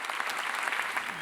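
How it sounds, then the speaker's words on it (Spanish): Audience at a lecture on the bicentenary of San Luis autonomy gives a short, steady round of applause, dense clapping at even loudness with no talk over it. "un aplauso para ella."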